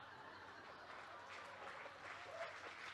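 A fireside-chat audience applauds, producing soft, distant clapping that blends into a steady wash of crowd noise.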